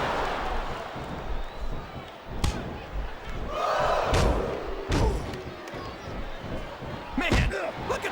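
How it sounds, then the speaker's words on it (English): Arena crowd roaring and cheering during a Royal Rumble match in the WWE Smackdown vs Raw 2007 video game, a constant wash of crowd noise under commentary talk, with sharp slams and thuds from the ring. "This capacity crowd is solidly behind their superstar."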